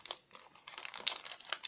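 Plastic bubble-wrap film, sticky like cling wrap, crinkles as it is handled while unwrapping a smartwatch package; a string of short, close crackles and rustles comes in small bursts without talk.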